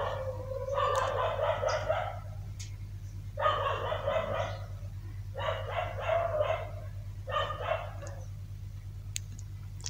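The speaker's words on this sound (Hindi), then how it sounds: "डॉग की आवाज़ आ रही है" Outdoors, a dog barks in four short bursts of rapid, repeated yaps separated by pauses, moderately distant over a steady low hum.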